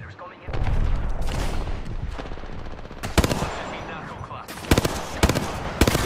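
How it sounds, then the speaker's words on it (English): Gunfire in Apex Legends, with bursts of rapid automatic fire and several sharp, loud single shots over a busy background, while a player talks. "Taking fire"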